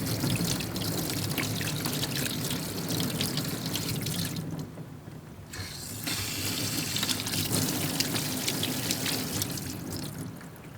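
Water runs and pours steadily while garden items are rinsed, a continuous splashing trickle with a brief quieter gap midway before the flow resumes at full strength.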